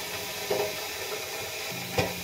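Whole spices (cinnamon, cloves, peppercorns, bay leaves, cardamom) in a little white oil in a pan, heard as a soft low sizzle with two brief stirring knocks, close and quiet.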